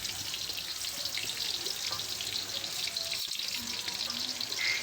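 Curly chili sizzles in a pan while being stirred into a chayote stir-fry, giving a steady hissing fry throughout the clip with faint clatters from stirring underneath.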